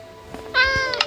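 A single drawn-out cat meow in a video game with a bright, tonal quality, slightly electronic, over a low background hum.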